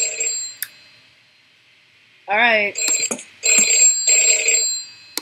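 A telephone rings in loud electronic bursts separated by pauses, with a short spoken word in the middle of the rings.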